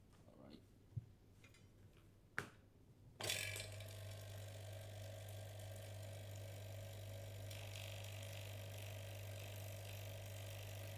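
A few clicks and clunks, then a 1-liter vacuum pump for a laminating machine switches on and runs with a steady, even drone and hum that continues unchanged to the end.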